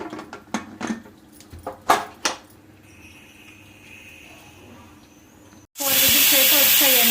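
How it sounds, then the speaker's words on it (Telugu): A pressure cooker on a stove bursts into a loud, sustained whistle of escaping steam near the end, after a stretch of kitchen clatter and quiet hiss. "ఇప్పుడు మనం మూత పెట్టేసి ఒక 3 విజిల్స్ వరకు రానివ్వాలండి."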